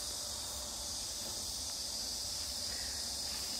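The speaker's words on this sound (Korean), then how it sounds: "매미 소리 들리시나?" A constant high, shrill drone of cicadas in a vegetable garden fills the air steadily throughout with no pauses or talking.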